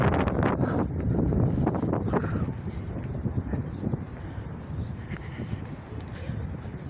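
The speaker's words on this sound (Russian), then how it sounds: "Ветер" Steady wind buffeting the microphone with a low rumbling roar throughout, fairly loud and continuous.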